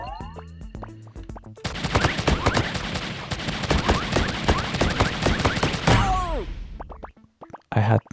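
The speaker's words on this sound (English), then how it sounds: "We have another gun." Rapid gunfire in the arcade game Pang Adventures, a dense volley of repeated shots with bouncing tones and electronic game effects around it.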